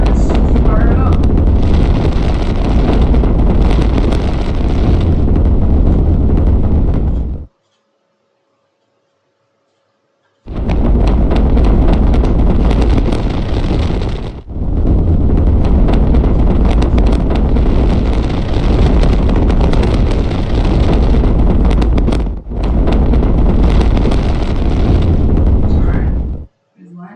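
A rocket engine fires in Minecraft with the Create NorthStar mod, a loud, steady roaring rush like heavy wind that cuts out to silence for a few seconds, then returns in long sustained bursts.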